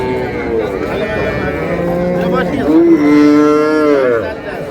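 At a rural cattle market selling dairy cows and calves, a nearby bovine lets out a loud, drawn-out moo that rises and swells, with faint voices of traders in the background.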